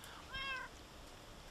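A cat meows a few times near the start in Minecraft, short rising and falling mews with harmonics, fairly clear over a low game background, followed by a brief sharp click near the end.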